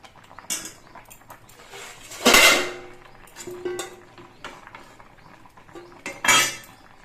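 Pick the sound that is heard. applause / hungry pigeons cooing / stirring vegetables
stirring vegetables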